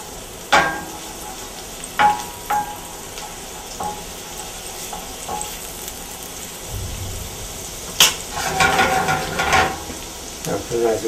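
Garlic and shallots fry in a pan with a steady sizzle, broken by several sharp clatters and stirring scrapes, with a louder burst of crackling toward the end.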